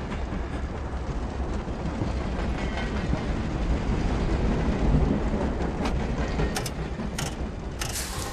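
A moving Berlin train in the World War II shooter game Wolfenstein: The New Order: steady loud rolling rumble with clattering wheels throughout, with a few sharp metallic clanks near the end and no talk.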